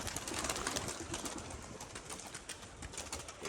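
Pigeons coo around a cage where a tiger-patterned cock bird perches, a soft steady murmuring of several birds close by with no talk.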